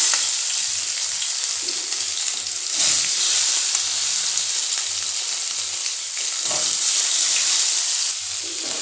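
Squeezed, water-soaked soya chunks fry in hot oil, giving a loud, dense, crackling sizzle that surges and settles with occasional low stirring thuds.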